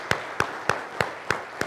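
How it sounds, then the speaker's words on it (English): Slow, evenly spaced hand claps, six sharp close claps at a steady rhythm with quiet gaps between them, heard at an aviation speaker series honouring a pilot. "a round of applause to you for your service to aviation and to your nation"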